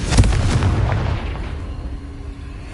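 A Confringo blasting spell bursts in Hogwarts Legacy with one loud, booming explosion that rolls into a fading rumble, standing alone.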